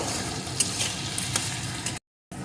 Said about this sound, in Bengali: এখন আলুটাকে লাল লাল করে সুন্দর করে ভেজে নেব